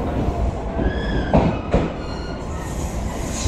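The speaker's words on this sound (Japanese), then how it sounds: "電車が来たんですけども" A train rumbles along steadily nearby, with a couple of sharp metallic knocks and faint wheel squeals as it rolls slowly into a station platform in Kagoshima, Japan.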